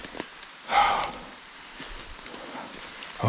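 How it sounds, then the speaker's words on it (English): Rain falls in woods during a spring turkey hunt, a soft continuous patter on leaves with a brief louder gust near the start and a faint voice at the edges. "And it's raining harder now"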